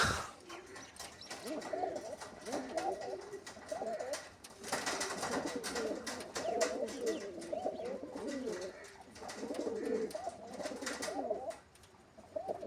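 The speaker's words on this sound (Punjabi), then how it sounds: "ਆਪ ਤਿਆਰ ਕੀਤੇ ਹੋਏ ਕਬੂਤਰ ਇਹ ਵਾਲੇ ਸਾਰੇ ਠੀਕ ਆ" Home-raised pigeons kept in pairs coo continuously in overlapping low, rolling phrases, close by, with occasional clatter and soft rustling behind them.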